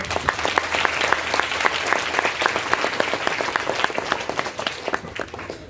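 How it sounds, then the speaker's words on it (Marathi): An audience at a school gathering breaks into dense, sustained applause for a tabla player who is also a professor; many hands clap loudly and continuously for several seconds. "त्यांच्याही करता आपण जोरदार टाळ्या वाजवूया"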